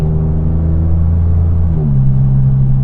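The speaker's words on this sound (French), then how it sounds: "C'est vrai que le son du 3 cylindres n'est pas non plus un peu typé cheap" A 2024 Toyota GR Yaris 1.6-litre three-cylinder engine hums with a low, steady drone heard from inside the cabin. The pitch shifts partway through as the revs change.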